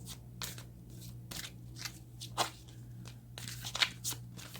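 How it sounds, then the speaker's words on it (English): Cards are riffled and shuffled in several quick bursts, close by and fairly quiet, with a steady low hum underneath. "These do not want to shuffle well."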